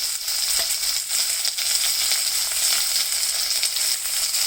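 Onion pieces, carrot and green chillies frying in oil in a pan, a continuous bright sizzle with faint crackles and stirring scrapes, close and steady with no talk.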